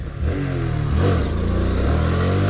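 A motorcycle engine revs hard with the clutch dumped for a small wheelie, loud and close, one rising roar that dips and climbs again.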